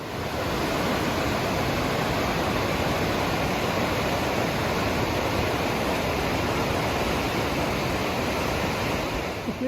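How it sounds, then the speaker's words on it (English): A huge Arctic river roars near a large footbridge, a dense, unbroken rush of water that stays loud and steady throughout with no voices. "we could hear the roar of the huge river"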